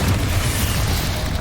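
A Bombarda blasting spell detonating in the video game Hogwarts Legacy, a loud, sustained low rumbling boom filling the whole moment with no gaps.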